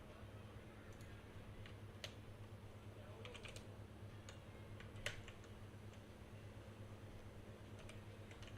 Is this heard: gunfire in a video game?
no